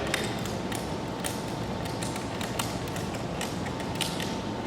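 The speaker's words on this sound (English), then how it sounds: "you want to keep on cranking until you see the net is nice and tight" A hand crank on a Cooper large gym net ratchets as it tightens the net, giving a series of faint, sharp clicks at an uneven pace over a quiet background.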